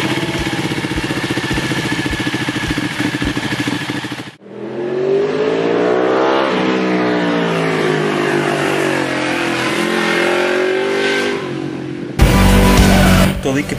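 Ducati Panigale 1199 S motorcycle engine, a loud pulsing idle that gives way to rising and falling revs with clear harmonic sweeps, then a sharp burst at the end; close and dominant.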